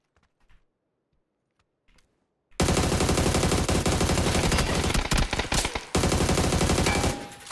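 Rapid automatic gunfire in the battle royale game PUBG, a long dense burst of loud close shots after near-silence with a few faint clicks, briefly breaking off before resuming.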